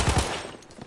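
A couple of quick gunshots ring out in a video game at the very start, close and loud, then fade into a brief reverberant tail.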